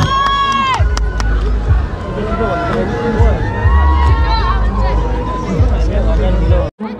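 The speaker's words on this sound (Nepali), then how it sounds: "हामी दिइरहेका छौँ जोरदार तालीले स्वागत गरिदिनु अनुरोध गर्दछु" Large concert crowd at the Jamuney Mela 2024 welcoming a singer, a loud, continuous roar of cheering, shouting and chatter with whistles, sustained for several seconds before cutting out abruptly at the end.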